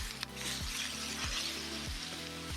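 Vegetables sizzling in oil on a Napoleon Rogue XT 425 plancha griddle: a steady, close frying hiss throughout, over a low, repeating tonal backing.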